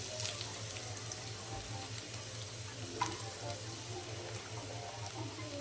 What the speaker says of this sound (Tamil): எண்ணெய் நல்லா சூடானதும் நம்ம வெங்காயம் ஆட் பண்ணிக்கலாம்